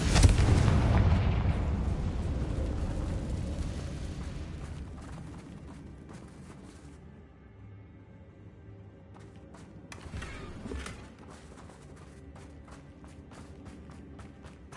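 A Confringo fire spell detonates in Hogwarts Legacy, a loud booming blast that rolls and fades over several seconds, followed by a smaller rumbling burst and footsteps in a cave-like space.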